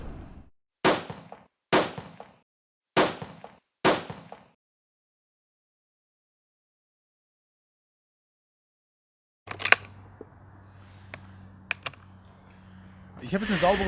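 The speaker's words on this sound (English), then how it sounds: "I now fire 4 or 5 shots." Four sharp rifle shots crack out at a steady rhythm while zeroing a scope at 100 meters, each loud and near with a short decay, followed by silence and then quieter handling noises and clicks.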